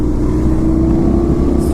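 A Suzuki GSX-R1000 superbike engine pulls steadily in sixth gear on the road, a loud continuous low drone with wind rush and no knocking.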